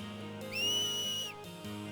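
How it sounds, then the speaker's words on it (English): A single clear, sustained whistle in the video game Final Fantasy X, rising quickly and then holding steady before cutting off, heard alone over a soft musical background. "I cannot whistle like that at all."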